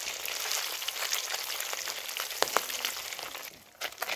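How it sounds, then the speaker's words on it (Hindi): Catfish (mangur) frying in oil in a pan, a loud, continuous close sizzle and crackle with a few sharp spits and a brief dip near the end, no talk. "एक तरफ का फ्राई हो जाने के बाद इसको क्या करेंगे कि इसको दूसरे तरफ फ्राई होने के लिए इसको पलटेंगे"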